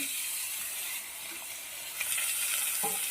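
Ash gourd pieces frying with green chillies in a pan give a steady soft sizzle throughout, with a few faint scrapes and stirring clicks near the end.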